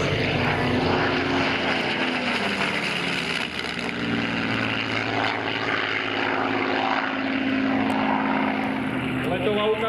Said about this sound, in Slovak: Lietadlo Spitfire. Dá sa povedať jeden z vrcholov fiestovej leteckej techniky.